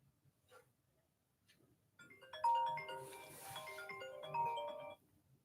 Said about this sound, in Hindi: देख रहे हो, फोन 3-4 बार मैंने काटा है, अभी भी कर रहे हैं लोग।